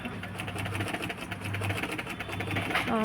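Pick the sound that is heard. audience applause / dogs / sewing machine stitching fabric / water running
sewing machine stitching fabric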